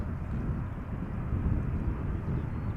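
A KLM Boeing 787-10 Dreamliner arriving at Schiphol from Las Vegas rumbles steadily overhead, a broad, low engine roar with some wind buffeting on the microphone and no talking.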